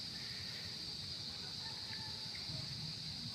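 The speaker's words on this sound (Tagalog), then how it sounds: "maririnig nyo ang mga huni ng mga kulisap" Insects chirping at a small rural farm lot beside a road, a faint steady high drone of chirps forming a continuous background with occasional soft bird-like calls, no talk.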